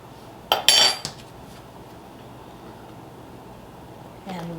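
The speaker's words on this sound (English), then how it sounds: "So we spoon in our cornmeal." A spoon clinks against a mixing bowl as yellow cornmeal is spooned in for blueberry muffin batter: a few sharp, close metallic taps in quick succession, then near silence with a faint room hum.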